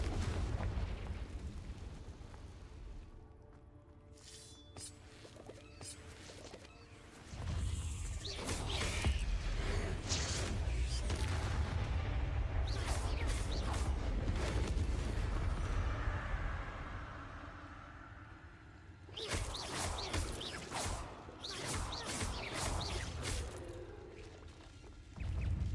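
Booming fire-spell blasts from Confringo in the game Hogwarts Legacy erupt inside a cave, with loud bursts and rumbling tails between quieter stretches of game ambience, and no talking.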